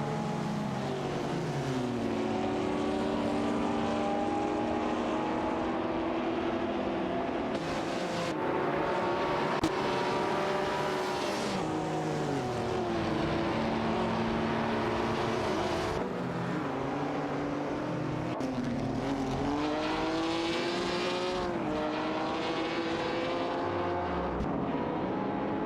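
Jaguar D-Type race cars in a racing video game roar continuously, engine pitches climbing and dropping repeatedly through gear changes, several motors blending into one loud, sustained drone.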